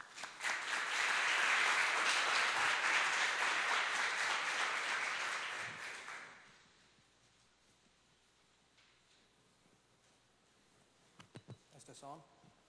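Loud audience applause welcomes Dr. Akbar Rasulov to a lecture on international law, swelling quickly and holding for about six seconds before fading into quiet room noise, then a few faint clicks and handling sounds.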